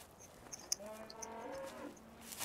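Cows moo in a Farming Simulator 15 livestock pasture, several drawn-out low calls overlapping at moderate distance, with faint clicks and no speech.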